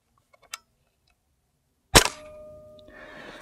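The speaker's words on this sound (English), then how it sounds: "We're going to do first shot here with the Octane." A single sharp crack from an Umarex Octane Elite air rifle, loud and close, followed by a ringing, metallic decay and some faint noise before it, with no one talking.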